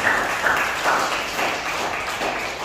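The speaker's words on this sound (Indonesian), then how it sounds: "Tepuk tangan buat Tuhan Yesus." A dense wash of applause from a church congregation at an evening prayer service, steady and fairly loud, lasting a few seconds without talking over it.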